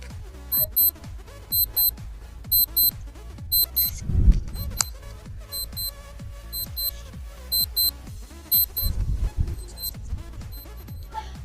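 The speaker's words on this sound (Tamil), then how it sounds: "அலாரம் ஸ்டார்ட் ஆகிடுச்சு" A Luxurit digital watch alarm beeps in short, repeated bursts, roughly a dozen evenly spaced groups of bright electronic tones over faint background sound.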